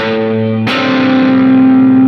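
Distorted electric guitar played with alternate picking, a sustained heavily overdriven tone with a sharp new attack partway through, loud and alone with no talking.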